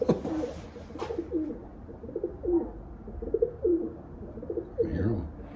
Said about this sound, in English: There's pigeons living in there now.